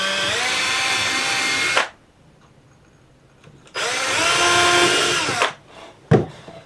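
A power drill with a small drill bit whirs loudly in two long bursts separated by a quiet pause, then a brief final spin-up, with no talking.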